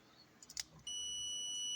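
An electrical tester on a fan's number-one switch button: a couple of soft clicks as the button is pressed, then a continuous high-pitched electronic beep that holds steadily to the end, fairly quiet and alone.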